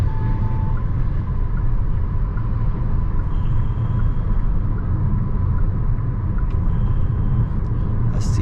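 Inside a Hyundai Alcazar 1.5 turbo petrol DCT cruising on the highway at about 80 km/h, a constant low rumble of road noise mixes with a soft wind hiss, steady and uninterrupted.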